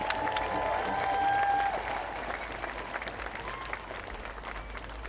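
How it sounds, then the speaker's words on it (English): An outdoor May Day rally crowd at Tollefson Plaza in Tacoma applauds the Tango Migrante performers on stage. The clapping is broad and sustained, somewhat distant, with a faint tonal hum over it. "Let's give them another round of applause."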